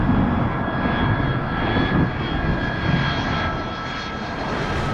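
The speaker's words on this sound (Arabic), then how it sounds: "يحلق الطاقم بطائرات من طراز MD-80" An MD-82 airliner's jet engines drone in flight as a steady, full-bodied cabin roar with faint high tonal whines, constant and unbroken, with no talking.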